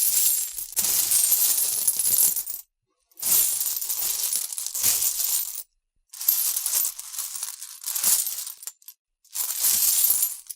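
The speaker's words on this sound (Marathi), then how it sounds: "हातातली चिल्लरची पिशवी शिवानीने वाजवली." A cloth bag of loose change shaken in four separate bursts, each a bright, close metallic jingle of coins lasting a couple of seconds, with short silences between.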